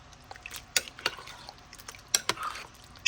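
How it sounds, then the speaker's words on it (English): Swedish meatballs being stirred in a pan, a utensil scraping and clinking against the metal in several sharp taps spread over a few seconds, with a soft sizzle beneath. "Just going to give them a little bit of a stir."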